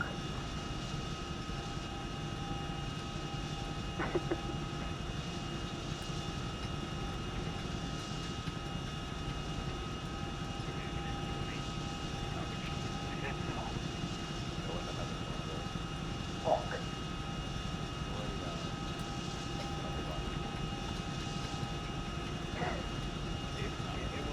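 A steady, droning aircraft engine hums inside a transport plane in a military video game, a continuous low roar that fills the cabin while people talk over it.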